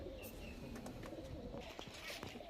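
Shak sobuj pigeons cooing steadily in a loft, soft overlapping coos from several birds close by, with faint chirps and a light background hum throughout.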